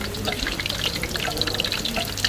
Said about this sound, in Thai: กุ้งทอดกระทะแรกของวันนี้จ้ะ